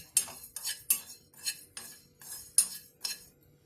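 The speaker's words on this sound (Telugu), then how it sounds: "దాల్చిన చెక్క జీలకర్ర ధనియాలు అండి వేయించుతున్నా లైట్గా" Cinnamon, cumin and coriander are dry-roasted in a pan, with a spoon scraping and clinking against the metal in about eight quick, regular strokes, close and without talk.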